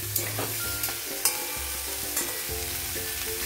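Pumpkin and spices are stirred in a pan over a gas flame: a steady frying sizzle runs underneath, with repeated scraping strokes and a few sharp clinks of the spoon, close and fairly loud.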